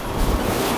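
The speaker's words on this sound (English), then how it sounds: "You guys probably will be able to hear that it's super windy as well" Strong outdoor wind buffets the microphone in a steady, loud, low roaring rush with no voices, lasting under a second.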